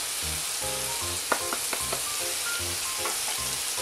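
Onions and shallots sizzle steadily in a hot pan, a constant close frying hiss with a few sharp crackles and stir scrapes, music playing quietly beneath.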